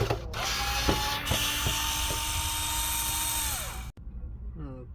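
Electric screwdriver whirring steadily while removing screws from an Xbox One X console, a high motor whine with small clicks, held for several seconds then stopping abruptly, followed by a brief voice.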